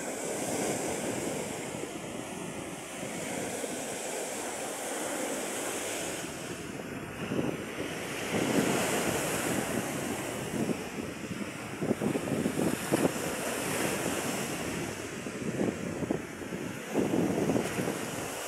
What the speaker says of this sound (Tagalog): Ito yung dagat ng New Washington.